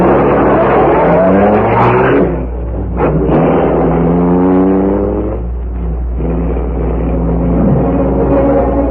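An old radio-drama car sound effect: the engine revs up and accelerates away, rising and falling in pitch with a heavy constant rumble beneath, loud and alone.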